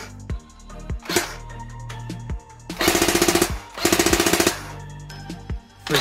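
A G&G F2000 airsoft gun fires two rapid full-auto bursts at about 14 rounds per second, loud and close, separated and surrounded by single mechanical clicks and clacks.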